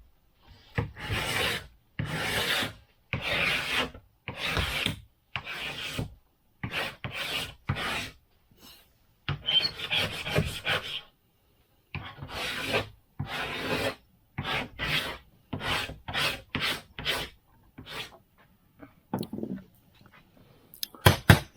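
A sharp hand scraper drawn across varnished cedar strip boat wood in repeated, evenly spaced rasping pulls, each a short scrape separated by silence, close and clear.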